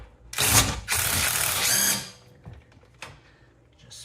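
A ratchet wrench spins freely on a nut during water pump and CV axle work on a VW Tiguan, giving two loud bursts of rapid clicking, then quieter scattered clicks and taps.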